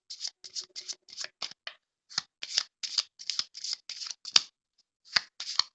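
Small oracle cards riffle and slap together in repeated short bursts of crisp, papery shuffling, close by and fairly quiet, with brief pauses between.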